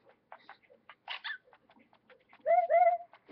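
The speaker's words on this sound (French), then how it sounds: "ça c'est Dogsy qui aboie" A small cartoon-like puppy barking in the video game Nintendogs + Cats, a few quiet yips and rustles building to two louder, squeaky high barks near the end, clean and close.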